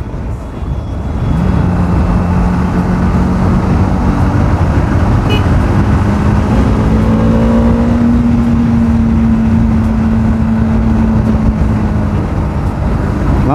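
A Bajaj Dominar 400 motorcycle in fifth gear pulls steadily under throttle, a loud continuous engine drone with rising pitch heard close up over constant wind rush, no talking.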